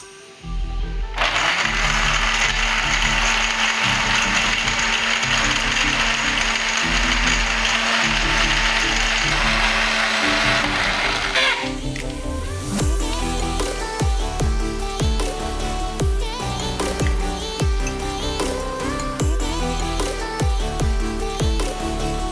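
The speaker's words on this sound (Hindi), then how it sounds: "ब्लेंड करें।" Kitchen blender running at high speed to blend a mint margarita of mint, lemon juice, sugar, salt, ice and lemon soft drink, a loud steady whir that then turns into rattling, clattering churning for the rest of the clip.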